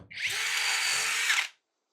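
A small cordless drill whines steadily at high pitch for about a second and a half while drilling into a paving stone, close and loud, then cuts off abruptly into silence.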